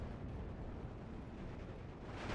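Mortar rounds explode in the Steel Division 2 strategy game as a continuous, muffled rumble of distant blasts, steady and fairly faint with no distinct individual impacts.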